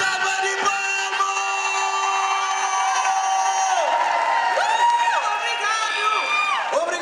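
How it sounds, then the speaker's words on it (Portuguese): A crowd at a Cape Verdean cultural night cheers and whoops for Tereza, with shouting voices and sustained vocal tones rising and falling over a steady, loud wash of audience noise. "Mais salva de palmas para Tereza"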